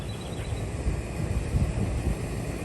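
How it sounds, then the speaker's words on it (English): Steady broadband mechanical hum of an air conditioner running close by, a constant low rumble with a faint whine on top and no voices. "Sorry for the noise, guys. My AC right next to me."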